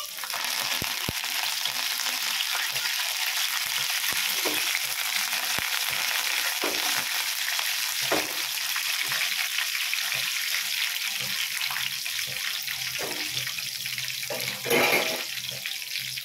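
Cumin seeds and curry leaves fry in hot oil with lightly browned garlic for a sweet mint chutney, a steady, close hiss with faint scattered pops and small stirring clicks, no one talking.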